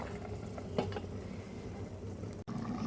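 Shrimp cooks in a pan with a steady bubbling, frying hiss, broken by a small splashy stir near the start and a brief sharp click and dropout toward the end, with no talking.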